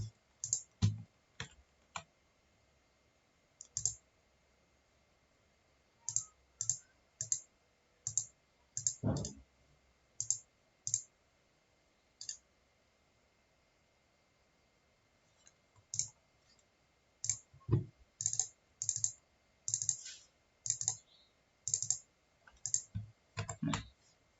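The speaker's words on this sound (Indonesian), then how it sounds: "Selanjutnya kita mengetikkan Python" Keys clatter on a computer keyboard as commands are typed, in irregular quick bursts with short pauses between, fairly close and quiet.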